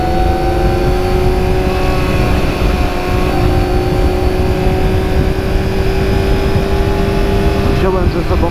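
Continuous loud motorcycle engine and exhaust drone with a steady tonal hum and heavy wind rumble, like riding along at constant speed.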